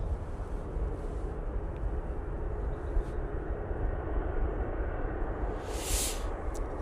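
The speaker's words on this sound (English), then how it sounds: "Aer Lingus A330 going back to Dublin now" An Aer Lingus Airbus A330 airliner lines up for departure to Dublin at Manchester Airport, its engines giving a steady broad roar at a distance, with a brief higher whine near the end.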